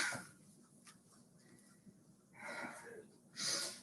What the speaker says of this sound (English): Slow that breathing down.